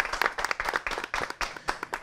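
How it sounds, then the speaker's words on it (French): An audience at a debate show claps loudly for the debaters, with distinct overlapping hand claps in a brisk, uneven rhythm, close and lively. "Je vous demande d'applaudir très très fort pour tous les débatteurs."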